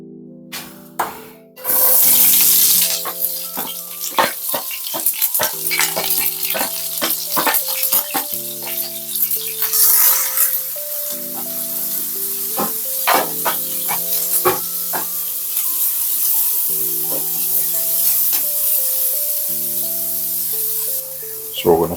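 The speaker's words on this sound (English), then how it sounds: "we're going to cook off our vegetables" Vegetables sizzle and crackle in a hot pan for the full stretch, a steady close frying hiss with scattered pops, while a melodic tune plays over it.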